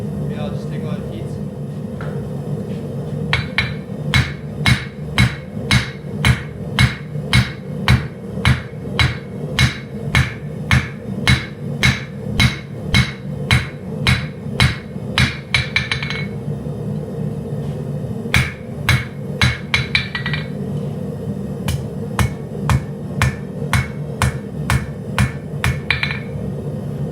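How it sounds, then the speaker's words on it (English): A hammer rings sharply on 52100 steel against an anvil while a kitchen knife is hand-forged, dozens of evenly spaced loud blows in fast runs with short pauses, over a low forge roar. "I hammered the bevel in, and now I'm going to straighten the spine out. I'm going to hammer the spine a little bit."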